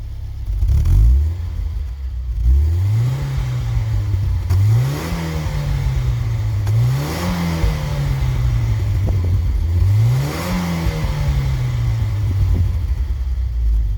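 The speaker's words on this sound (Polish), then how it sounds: "No słyszymy, że jest to starszy silnik." A 1992 Volvo 940 with the 2.3 engine, running just after starting, rumbles loudly and close, rising and falling in four even revving swells over a steady idle.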